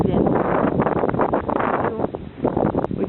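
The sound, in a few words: strong wind outdoors at haunted house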